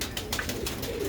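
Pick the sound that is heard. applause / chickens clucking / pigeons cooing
pigeons cooing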